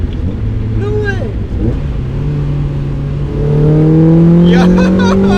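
An NB Mazda Miata fitted with a Flyin' Miata kit roars at full throttle from inside the cabin, its engine note climbing steadily in pitch and growing louder, with excited voices talking over it.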